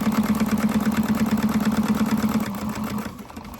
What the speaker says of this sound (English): So I'm going to sew right up to that line.